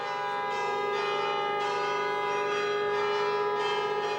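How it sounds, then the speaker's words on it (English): Church bells ring out repeatedly to celebrate a Ferrari victory, steady overlapping peals with a rich, sustained metallic ring, heard at a moderate distance with no voices. "The local priest continued the long-standing tradition of ringing the church bells to mark Ferrari victories."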